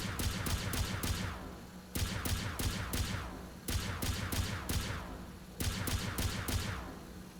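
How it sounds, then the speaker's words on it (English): An AR-50D1 laser rifle in the Fallout video game fires in three rapid bursts of crisp shots, each burst about two seconds long and separated by brief pauses, fairly loud with no talking. "AR-50D1, my laser rifle. It goes pew pew."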